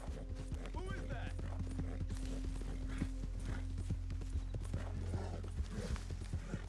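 Hooves of a white horse clip-clopping in a steady, even walking rhythm, fairly close, with voices talking over the hoofbeats.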